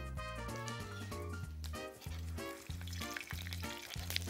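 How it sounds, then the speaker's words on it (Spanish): Strips of hand-peeled peppers fry in a pan with a steady sizzle, heard close beneath stepped, melodic background music. "los pimientos en la sartén"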